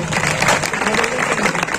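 An audience at a Hindi kavi sammelan poetry recital in Pachore claps in a dense, steady burst of applause that fills the whole short moment, with a voice faintly mixed in.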